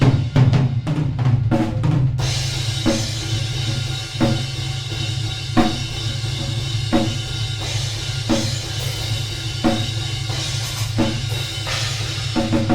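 Drums pound through a rehearsal room picked up by microphones set at the room's center, opening with a quick fill before settling into an even beat of kick, snare and cymbals, loud with noticeable room ambience and a steady low drone underneath.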